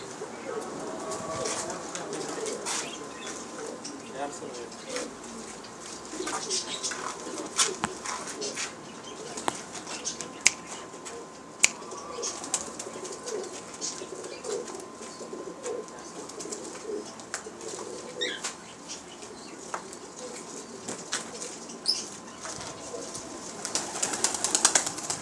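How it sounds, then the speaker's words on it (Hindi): Pigeons coo softly around a rooftop loft, with bursts of wing flapping and occasional sharp clatters, while people talk in the background throughout. "उस्ताद कैसर अपने कबूतर दिखाते हुए।"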